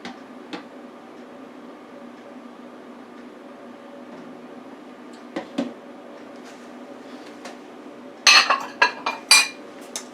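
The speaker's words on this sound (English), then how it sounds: "I'm going to add the 3 eggs." Eggs going into a pecan pie filling in a mixing bowl, heard as a quiet kitchen backdrop with a few soft knocks and then a short burst of bright clinks and taps near the end.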